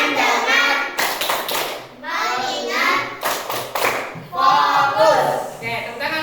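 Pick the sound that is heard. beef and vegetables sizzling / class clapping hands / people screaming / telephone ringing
class clapping hands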